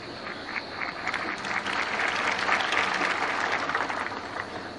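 A 1983 Australian Open semi-final crowd claps continuously, a broad, dense wash of applause that swells gently toward the middle and holds steady throughout.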